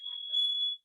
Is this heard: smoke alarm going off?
yes